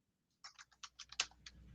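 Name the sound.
typing-like clicking on computer keyboard or headset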